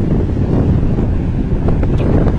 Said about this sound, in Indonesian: malam ini anginnya kenceng